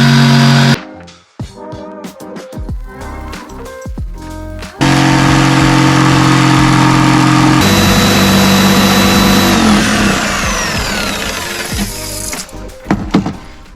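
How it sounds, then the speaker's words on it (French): A jigsaw cuts a sink opening in a worktop inside a VW T5 4Motion van, a loud continuous buzzing rasp with a brief pause and restart, then steady sawing that tapers toward the end. "Parfait, maintenant il n'y a plus qu'à sortir la scie sauteuse et à percer."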